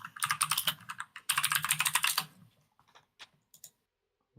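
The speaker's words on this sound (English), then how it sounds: "Love they can hear all of your keyboard." Quick bursts of rapid clicking from a mechanical computer keyboard being typed on, close and fairly loud, pausing midway and trailing off into a few scattered isolated key presses.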